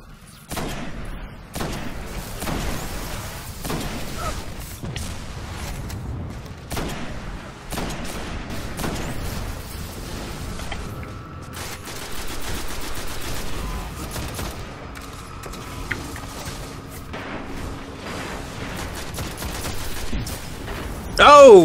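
Sustained gunfire fills a Destiny co-op firefight in the Black Garden, with repeated rifle bursts and shots, some of them louder, and heavy action noise throughout. A sniper shot may sit among the barrage.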